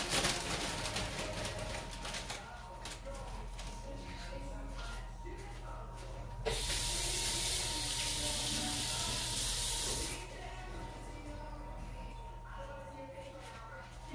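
A kitchen tap runs steadily while a handful of spinach is rinsed for a breakfast deep-dish pizza, the flow growing brighter and louder for a few seconds midway, with faint handling and background hum.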